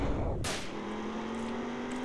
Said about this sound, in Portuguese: Eita, um barulho de tiro.